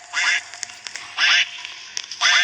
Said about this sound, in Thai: เป็ดหุ่นยนต์หรือเปล่าเนี่ย